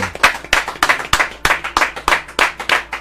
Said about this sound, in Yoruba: Àwọn ti Arab countries àní ẹ pàtẹ́wọ́ fún wọn.